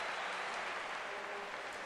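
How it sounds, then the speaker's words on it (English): Faint, steady applause from a hockey crowd at Maple Leaf Gardens in 1983, a brief, distant wash of clapping without distinct voices. "Lively crowd here at the Gardens tonight"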